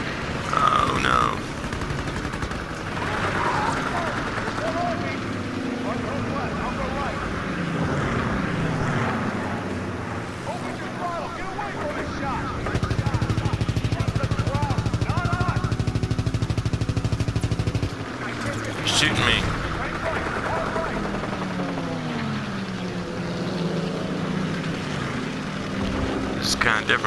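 World War II fighter planes in a video game dogfight, with engines droning and gunfire bursts over a busy layered mix, while a person talks excitedly throughout.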